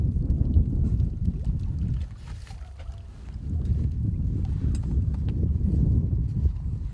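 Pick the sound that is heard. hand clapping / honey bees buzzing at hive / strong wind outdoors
strong wind outdoors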